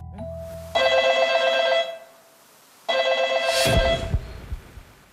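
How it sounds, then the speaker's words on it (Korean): An old-style telephone bell rings twice, each long trilling ring separated by a short silence, followed by a clunk as if the handset is lifted. "전화 한 통이 걸려왔어."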